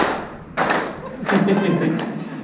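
An audience claps hands together on cue, giving a few loud, broad slaps in a short burst with a voice present around them.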